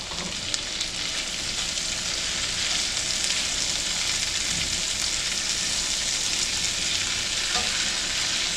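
Onions frying in leftover steak marinade spices give a constant, loud, close sizzle with crackling and occasional stirring, no talk.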